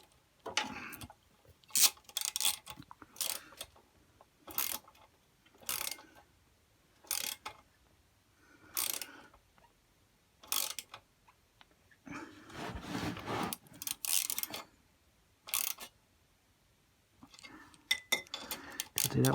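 Wrench ratcheting as nuts are tightened on the studs of a 1976 Puch Maxi moped: bursts of close, clicking metallic ticks separated by short pauses, repeated a dozen or so times with no talking.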